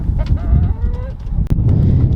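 Farm chickens sound off close by with a short run of honking clucks, followed by a sharp knock and a steady low rumble of movement.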